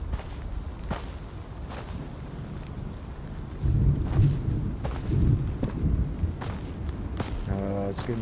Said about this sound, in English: the damn storm's coming now.